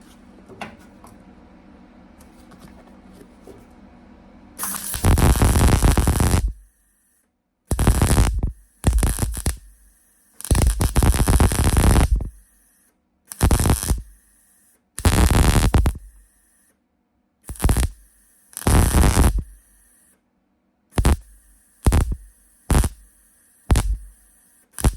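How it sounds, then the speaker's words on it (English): Welding a patch over a rust hole on a VW Beetle: a quiet hum gives way to a series of loud, crackling arc bursts of varying length, separated by short silent pauses. "Okay, I just put a lot of weld in there"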